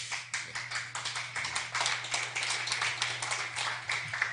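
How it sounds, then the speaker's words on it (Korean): An audience claps during a special lecture on astrophysics, a fairly quiet, rhythmic patter of many hands with a steady low hum underneath and no talking over it. "여러분들 내게 대해서 박수를 치는 거 보니까"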